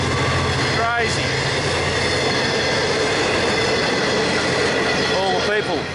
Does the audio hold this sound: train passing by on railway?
yes